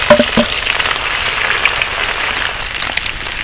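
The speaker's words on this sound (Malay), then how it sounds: "mula-mula kita goreng dulu ikan bilis." Anchovies frying in hot oil, a dense continuous crackling sizzle with a few sharper pops near the start, close and loud with no talk.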